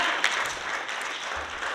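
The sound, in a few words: audience applause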